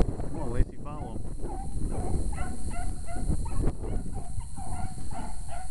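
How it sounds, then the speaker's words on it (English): Beagles on a rabbit trail at a Missouri conservation area give a string of short yips and whimpering barks, moderately close, repeating in quick bursts over outdoor background noise. "She barked a little bit"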